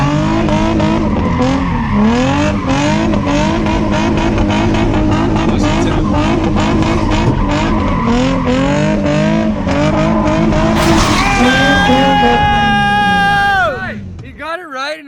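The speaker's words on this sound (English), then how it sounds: "He's trying to answer a text whilst drifting." A car drifting produces loud, continuous tire squeal with a wavering pitch over a roaring, revving engine, close up; a long high screech comes near the end before the sound cuts off abruptly.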